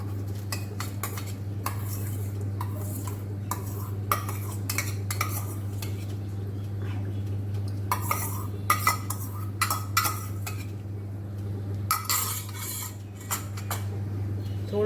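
Ghee-coated rice is stirred into a pot on the stove for dudh paak, with a metal spoon scraping and clinking against the pan in irregular bursts over a constant low hum.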